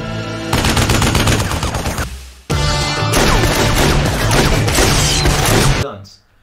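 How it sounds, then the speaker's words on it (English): Rapid, dense gunfire from a movie shootout in a village in Hot Fuzz, with sustained loud bursts of shots and crashing impacts, a brief pause, then more continuous firing before it cuts off. "now Nicholas has a shootout with the Sanford people"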